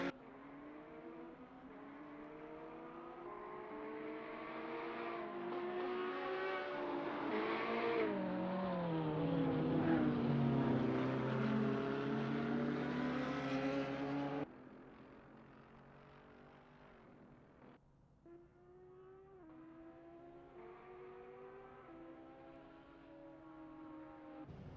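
Several GT3 race cars, including a Ferrari 488 GT3, at Misano World Circuit in Assetto Corsa, their engines rising and falling in pitch through gear changes, one passing close and loud before fading, then others following at moderate distance.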